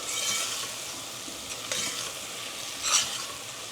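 Gram flour being stirred into kadhi cooking in hot oil: a steady close scraping and stirring with a soft sizzle underneath, plus a brighter clink of the spoon near the end.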